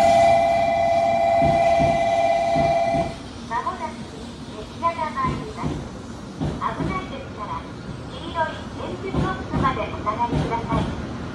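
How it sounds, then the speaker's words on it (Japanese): A Hikari Rail Star Shinkansen train rolls into Hakata-Minami Station, Japan, with a sustained horn tone at first, then rumbling wheels and clatter as Japanese announcements sound over it, warning passengers to stand back behind the yellow tactile paving. "まもなく列車が参ります。"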